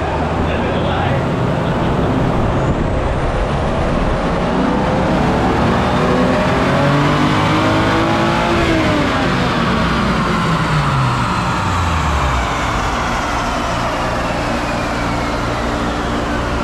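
Stock 1990s Toyota Supra revving hard on a dyno, the engine sweeping up through the gears and dropping back, loud and close with a fan roaring underneath throughout.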